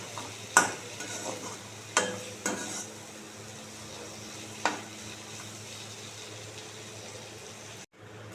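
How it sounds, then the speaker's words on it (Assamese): Boiled ou tenga and potatoes with turmeric and salt being stirred in a pan, a few distinct scraping knocks of the spoon over a steady low sizzle, close and moderately quiet. "জোখমতে হালধি দি ল'লোঁ, জোখমতে নিমখ দি ল'লোঁ আৰু এয়া মই ভালদৰে লৰাই ল'লোঁ।"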